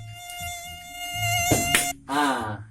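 Mosquito buzzing, a thin sustained whine with steady harmonics that cuts out briefly near the end and returns, with a low hum and rustling underneath.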